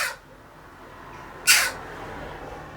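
A young jackdaw gives two short, harsh calls at a house by a canal, one faint at the start and one louder, close call about halfway through, each standing alone against a quiet background.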